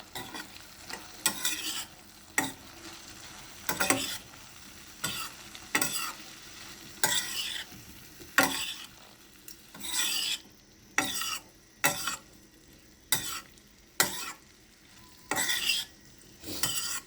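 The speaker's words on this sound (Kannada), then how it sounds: "ಫ್ಲವರು ಹಾಕ್ಬಿಟ್ಟು ಚೆನ್ನಾಗಿ ಮಿಕ್ಸ್ ಮಾಡ್ಕೋಬೇಕು" Cauliflower frying in a pan is stirred with a utensil in repeated scraping strokes about once a second, each rasping swipe standing out over a quiet background sizzle, close up, with no talk.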